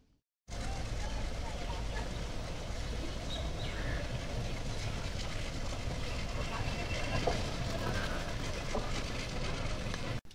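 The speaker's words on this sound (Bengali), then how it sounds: "আমরা দেখতে পেলাম এখানে ট্রেন এসে থামলো, শাটেল ট্রেন" A shuttle train pulls into Jagati railway station in Kushtia, Bangladesh, giving a steady, loud rumble and rattle that starts abruptly and fills the scene, with indistinct voices mixed into the noise.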